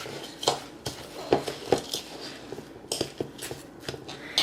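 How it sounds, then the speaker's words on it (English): Seasonings and crushed cracker crumbs stirred together in a bowl for salmon patties, giving light irregular clinks and scrapes of utensil against the dish, close and fairly quiet. "I'm going to kind of toss those seasonings around with the crackers. Kind of stir everything together there."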